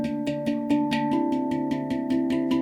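A handpan played in slow chords: a steady stream of quick, evenly spaced strikes ringing into sustained metallic tones that overlap, close and moderately loud without talking.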